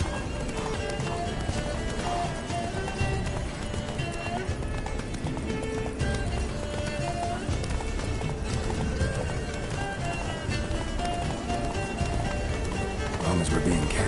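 In The Witcher 3 game, the horse Roach gallops at speed, a fast, continuous clip-clop of hooves with a whinny, under dense game music and effects, loud and steady throughout.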